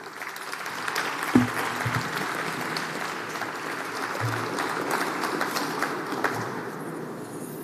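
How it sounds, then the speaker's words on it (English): Audience applause at the plenary session of the EIC Summit, a steady wash of many hands clapping throughout, moderately loud with a few thumps in the room. "I think that they all deserve your applaud."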